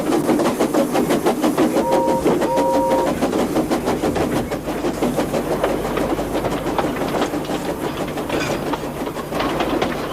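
A toy train, evidently a high-speed model, runs with a steady rhythmic clickety-clack and a whining motor hum, close and continuous, with brief whistle-like tones early on.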